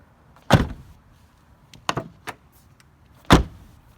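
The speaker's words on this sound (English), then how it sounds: "Nothing rubs when you close the door, open the door." A 2002–07 Subaru WRX/STi car door thuds shut, then a couple of softer clicks and a second close, ending with another solid slam; three distinct impacts, close by.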